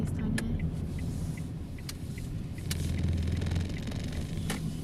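Car driving during a driving lesson before a right turn, a steady low engine and road rumble inside the cabin with a few faint clicks and knocks.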